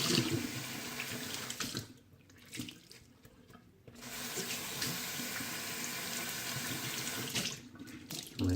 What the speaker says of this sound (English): Rinsing out the brush there.